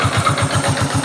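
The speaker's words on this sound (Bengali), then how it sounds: "ইঞ্জিন সাউন্ডটা আপনারা যদি শুনেন একবারে স্মুথ অবস্থা আছে" A 125cc motorcycle engine idles nearby with an even, low, throbbing putter and no other sounds over it.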